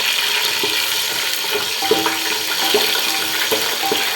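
Cashews frying in a pan of hot oil for veg biryani, a dense steady sizzle with faint scattered crackles and stirring scrapes, close and continuous.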